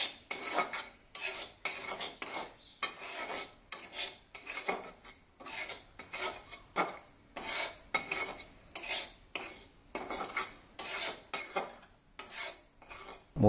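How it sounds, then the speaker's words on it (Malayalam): Chili powder and coriander powder being stirred in a pan for onion theeyal, with a metal spoon scraping and clinking against the pan in steady, repeated strokes, close and fairly loud, with no talking. "മല്ലിപ്പൊടിയും മുളക് പൊടിയും മൂക്കുന്നത് വരെ നന്നായിട്ട് ഇളക്കി കൊടുക്കണം"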